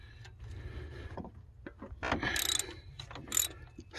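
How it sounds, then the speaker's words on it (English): A ratchet loosens cylinder head bolts on a Dodge Nitro engine, with quick bursts of clicking pawl strokes separated by short pauses, fairly close and moderately loud, with no talking. "So we'll take all these bolts loose"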